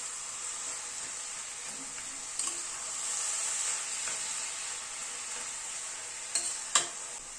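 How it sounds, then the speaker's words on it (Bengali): Spice mix being stirred through cabbage in a pan, with a steady soft sizzle and occasional scraping clinks of the spoon, close and continuous without talk. "মশলাটাকে পুরো বাঁধাকপির সাথে মিশিয়ে দিচ্ছি"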